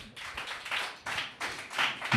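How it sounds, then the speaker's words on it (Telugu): A church congregation clapping at a sermon, a few quick bursts of applause-like hand claps in uneven rhythm, moderately loud and somewhat distant, with no talk over them. "కొట్టండి చప్పట్లు ఒకసారి"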